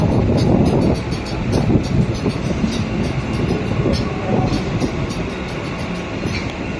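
Train noise at a railway station, a steady loud rumble of rolling stock with faint clattering and a high whine, continuous throughout with no talk.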